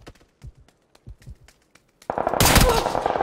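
Heavy automatic gunfire from a PUBG match erupts loud and sustained in the second half, after a stretch of sparse, soft thuds and quieter shots.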